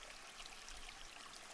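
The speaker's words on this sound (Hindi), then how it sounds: "एक साफ तेज बहता झरना जिसमें पानी का अलग अलग बहाव है" A clear, fast-flowing stream in a Coorg plantation pours and trickles in an even, continuous wash of running water, close by with no voices.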